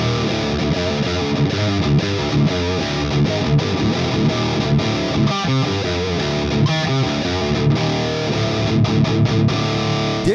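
A heavily distorted electric guitar through the Ignite Amps and STL Tones Emissary two-channel amp-sim plugin plays chugging metal riffs and chords with steady loudness, with a brief gap midway before the playing continues.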